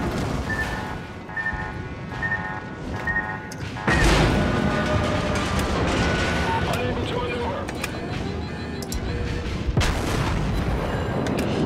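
Heavy naval gunfire and shell impacts in the warship battle game World of Warships, with a loud broadband blast near four seconds followed by sustained booming and crashing under game sound and voice chatter.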